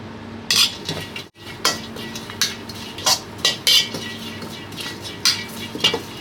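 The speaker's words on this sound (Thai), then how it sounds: "เราต้องคั่วตัวนี้ก่อนครับผม" Galangal dry-roasting in a pan over low heat while a utensil scrapes and clinks against the metal in irregular, fairly close knocks, with a faint steady background and no talking.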